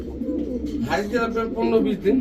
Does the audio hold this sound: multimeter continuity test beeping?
no